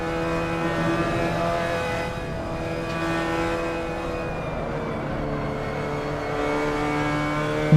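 Mazda MX-5 Cup race car engine at Portland in Assetto Corsa, a steady droning hum with strong harmonic tones held at fairly even revs, slight pitch shifts, alone and continuous.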